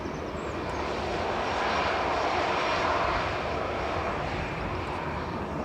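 An EasyJet Airbus A320 Classic lands at Manchester Airport after arriving from Milan, its engines giving a steady, loud broadband roar that swells toward the middle and eases slightly, with no voices.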